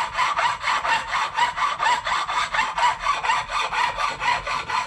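Rhythmic back-and-forth rasping of a file dressing burrs off freshly cut metal edges held in a vise, about three strokes per second, close and loud with no speech.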